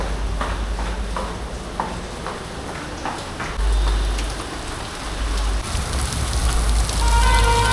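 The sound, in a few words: heavy rain falling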